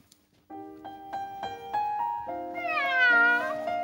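A person imitates a cat meowing, with a few rising and falling meows that stretch into a longer wavering caterwaul, close and clear over quiet background.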